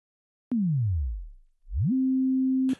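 A Dexed Yamaha DX7 emulation synth plays a pure sine tone that drops slowly in pitch to a low rumble, then rises back and holds a steady note before cutting off, clean and isolated.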